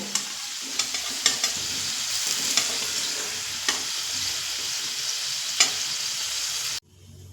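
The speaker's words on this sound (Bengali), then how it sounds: "একটু মিডিয়াম ফ্লেমে আলুগুলো ভাজবো যাতে ফিফটি পার্সেন্ট মতো সিদ্ধ হয়ে যায়" Potatoes fry in oil over a medium flame, a steady close sizzle broken by occasional sharp clinks of a stirring utensil, ending in abrupt silence.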